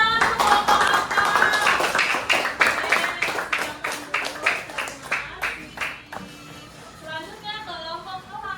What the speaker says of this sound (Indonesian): Beri tepuk tangan untuk kelompok katak.